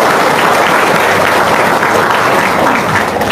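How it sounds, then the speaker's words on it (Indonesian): Indoor audience applause at a seminar-style talk, a dense continuous clapping wash from a sizable crowd, loud and steady throughout with no voices rising above it. "Wow, tepuk tangan dong."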